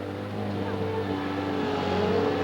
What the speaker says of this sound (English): The Holland Harvester is the name of the tractor. It's a 560 International.